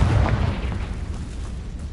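Confringo fire spell from the Hogwarts Legacy video game, a loud low booming blast at the start that rumbles on and fades slowly.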